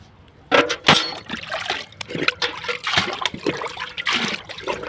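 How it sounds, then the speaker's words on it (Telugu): Diluted water is poured onto potted garden plants, including okra growing in a rice sack, giving irregular splashes and trickles in short bursts, close by and without talk. "అలానే ఇప్పుడు ఈ నీటిని కూడా డైల్యూట్ చేసి మన మొక్కలకి ఇస్తానండి."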